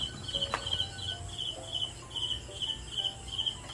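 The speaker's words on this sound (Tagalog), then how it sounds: "Kuliglig yung tawag sa amin dito. Yung tunog na yun." Crickets chirping outdoors in the early evening in the Philippines, a steady high pulsing trill repeating throughout over faint background noise, with a brief sharp click near the start.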